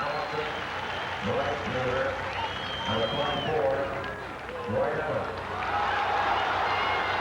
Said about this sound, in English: Ralph Houck is being cheered by this entire crowd.